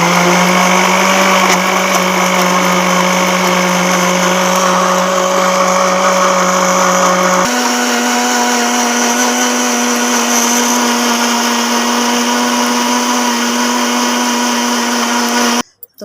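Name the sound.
blender making mango milkshake with ice cubes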